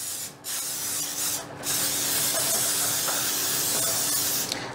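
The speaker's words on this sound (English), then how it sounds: "you wanna just spray that with a little bit of cooking spray" Cooking spray from an aerosol can hisses in short bursts into a baking dish or tin, followed by a longer steady spray, close and fairly loud with no talking.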